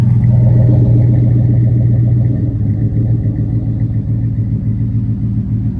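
A square-body Chevy truck engine idles with a steady low rumble and a throaty exhaust burble, loud and close, with no voices.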